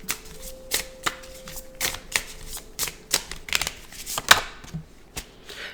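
Dark Night of the Soul tarot cards are shuffled by hand in a steady run of crisp, close riffling slaps and flutters with no talking.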